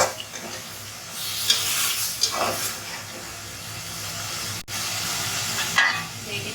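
Pumpkin curry with spices sautéing in a pan in a small home kitchen: a continuous close sizzle with bursts of scraping stirs, a short break, then more stirring.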